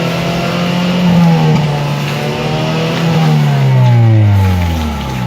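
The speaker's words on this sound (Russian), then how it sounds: "это вот мастер там сидит, газует" A car engine revs repeatedly at a workshop during hydrogen cleaning of the engine, loud and close, rising and falling in pitch through several sustained throttle pulls with no talking.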